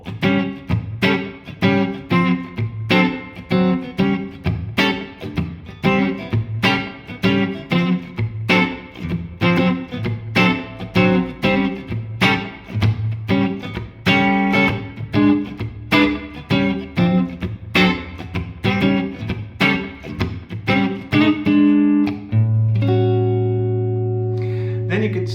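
Electric guitar comps a shuffle blues, picking short character notes and then fuller chords in a steady swung rhythm, clean with slight drive, ending on a sustained chord, close and prominent.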